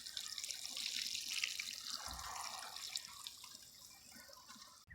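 Water trickling slowly from a garden hose at low pressure into a potato planting container, a soft continuous splashing and dribbling heard close up and fairly faint, with no talking.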